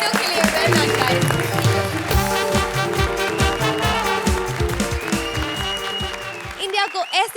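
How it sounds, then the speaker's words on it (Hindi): A studio audience at a comedy show claps loudly, with music playing over the applause for the whole stretch. "जोरदार तालियां हो जाए इन तीनों के लिए।"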